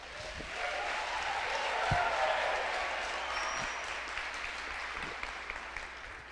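A church congregation applauds during a sermon, a steady distant wash of clapping heard faintly with some room murmur and a few louder thumps.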